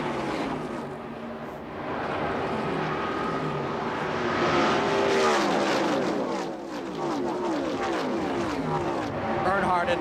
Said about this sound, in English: There's Earnhardt, your leader, out of turn 4. 9 cars, less than a second apart.